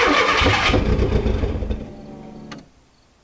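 A 1987 Mk2 Jetta engine turns over and runs loudly up close for about two seconds, then sputters and fades out, leaving near silence before a sharp click at the end.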